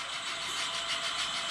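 An HOn3 scale model diesel locomotive runs smoothly, giving a steady, even mechanical hum with a hissy wash that holds at a constant level throughout.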